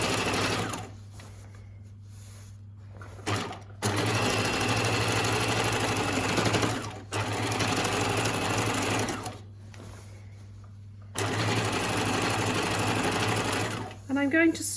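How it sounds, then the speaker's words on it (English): A sewing machine edge stitching around a pocket on scrubs, running in three steady mechanical bursts separated by short pauses, close and clear, with someone talking quietly in between. "So I'm edge stitching around."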